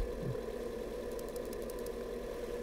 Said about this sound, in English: Is that supposed to be a car engine? Sounds like a toilet flushing.